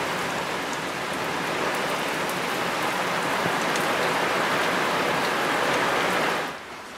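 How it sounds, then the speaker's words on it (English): Steady rain pours down in a dense, hissing wash for several seconds, then cuts off abruptly near the end. "It's raining outside."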